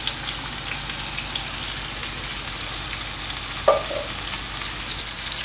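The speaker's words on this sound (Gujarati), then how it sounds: "તો ટમેટાને આપણે હવે ફેરવી લેવું બીજી બાજુ. આ રીતે ઊંધા કરી લેવું બધા ટમેટાને." Tomatoes frying in a pan for cheese tomato Maggi give a continuous close sizzle, with a single sharp clack of a utensil partway through as the pieces are turned over, and no voices.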